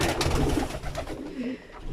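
Soft cooing of domestic pigeons in a loft nearby, low throaty murmurs rising and falling over faint background noise.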